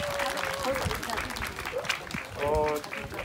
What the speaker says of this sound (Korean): 어린이에게 큰 박수 좀 부탁드리겠습니다